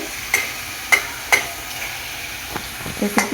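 Spices for a mutton curry are stir-fried in a pan, with a low sizzle punctuated by several sharp spatula scrapes and taps against the vessel, close by and without talk.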